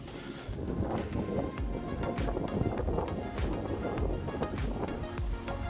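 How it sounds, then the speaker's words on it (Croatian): Strong wind buffeting the microphone on the shore of Bajer Bizovac lake in Croatia, a constant roaring rush with gusts rising and falling throughout. "Malo puši vjetar, malo više."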